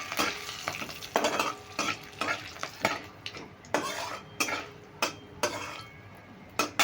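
Radhuni and panch phoron spices crackle and fry in hot oil for a shukto tempering, with repeated sharp bursts of sizzle and the scrape of stirring in a pan, loud and close, with no talking.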